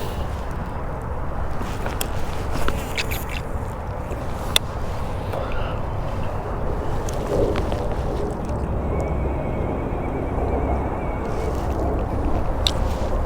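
Strong wind on open water while out boating, a constant, loud, blustery roar buffeting close by for the whole stretch, with a few faint knocks and creaks from the boat.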